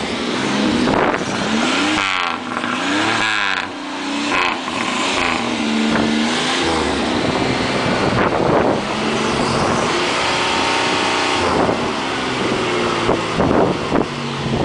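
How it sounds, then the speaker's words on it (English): A Buick GNX, number 321 with 864 original miles, its turbo V6 idling and revving with rising and falling pitch sweeps, loud and close, with a raspy edge and no voices over it. "How about a real GNX number 321 running?"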